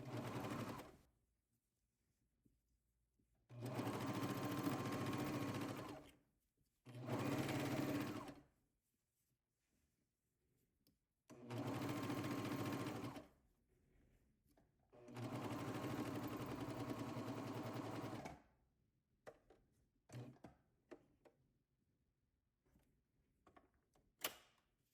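A serger finishes off a seam allowance on a house dress in five loud, close bursts of rapid whirring stitching, each a few seconds long and separated by quiet pauses, with faint handling clicks near the end.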